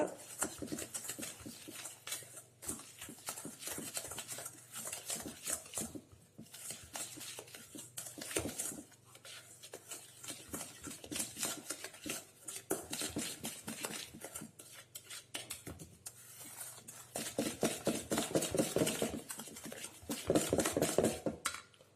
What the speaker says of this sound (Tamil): அந்த பட்டரும் சுகரும் நல்லா மிக்ஸ் ஆகிற மாதிரி கலக்கிக்கோங்க